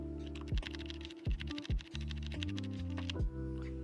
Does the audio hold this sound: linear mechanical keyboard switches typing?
yes